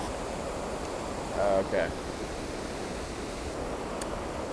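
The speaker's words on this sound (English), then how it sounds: "When you're next to a waterfall, you can't hear when the damn shutter goes off." A waterfall on a spring hike in the Pacific Northwest produces a steady, dense rushing roar throughout, with a brief spoken word from a man partway through.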